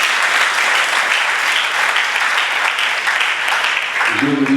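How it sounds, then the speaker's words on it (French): Applause from a civil wedding ceremony crowd cheering newlywed couples, dense steady clapping throughout, loud and close, with a brief voice emerging at the very end. "On applaudit les champions s'il vous plaît."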